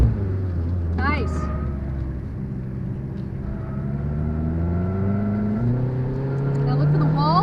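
A car drives through a driving school course with its engine rumbling steadily and pitch rising and falling as it accelerates and turns, a loud continuous sound from inside the cabin with an instructor talking over it.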